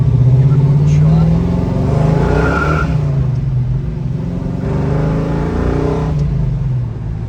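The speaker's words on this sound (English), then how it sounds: "We're in our 468 Chevelle here, heading back to the shop. Give it a little shot." A 1970 Chevelle SS with a 468 big block V8 and four-speed pulls hard through a residential street, its loud, steady engine roar rising and falling while a voice talks from inside the car.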